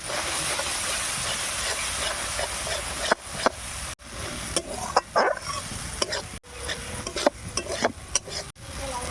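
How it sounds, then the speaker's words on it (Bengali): Green chili paste and mustard paste, with chili powder and turmeric, sizzle in a hot pan: a loud, steady hiss, later broken by sharp stirring scrapes and clatters of a spoon against the pan. "এর মধ্যে কাঁচা লঙ্কা বাটা সর্ষে বাটা দিয়ে দিলাম"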